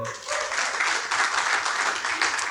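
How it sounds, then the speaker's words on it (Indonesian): Audience applause at an Indonesian national organizational meeting, a short burst of moderately loud clapping from a crowd lasting a couple of seconds. "Tepuk tangan buat teman-teman ini."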